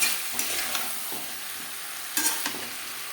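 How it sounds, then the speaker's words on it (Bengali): Boiled potato and cauliflower being stirred into frying spices for a fish curry, a bright continuous sizzle broken by repeated scraping stir strokes against the pan, close and fairly quiet, with no talk. "সেদ্ধ করে রাখা আলু আর ফুলকপি মশলার সাথে আলু ফুলকপি বেশ ভালো করে মিক্স করে দেবো"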